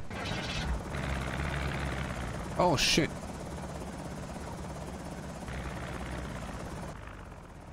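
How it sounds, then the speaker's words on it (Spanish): A helicopter in the Project Zomboid video game drones steadily, a continuous rotor buzz heard throughout, while a man curses briefly over it partway through. "Ok, se está yendo el helicóptero"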